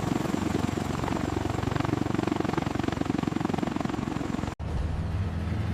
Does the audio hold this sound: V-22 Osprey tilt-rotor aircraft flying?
yes